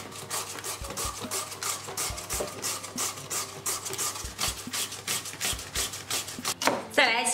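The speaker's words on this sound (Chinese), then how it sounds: "用擦子再擦成细丝" Peeled pumpkin rubbed against a hand grater into thin shreds, a close, rhythmic series of rasping strokes repeating steadily, each a short scraping burst.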